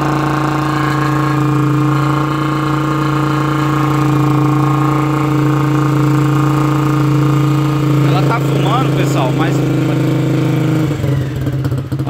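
A smoking motorcycle engine idles loudly and steadily up close, a constant low drone with a few faint clicks and shifts near the end.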